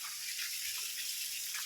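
Water streams steadily from a hose pipe while a yard is watered at home, a constant hissing gush, close and unbroken, with no voices.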